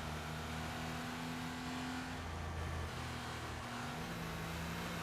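Classic Porsche 911 race car engine in the Need for Speed Porsche Unleashed video game, a steady droning engine note with shifting pitch throughout, alone without talk.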